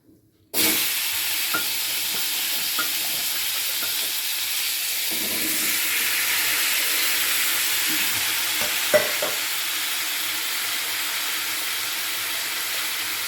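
Chopped winter vegetables tipped into hot oil in a kadai for a Bengali tilapia curry, setting off a loud, steady sizzle and hiss of frying with occasional soft stirring clinks, close and continuous with no talk.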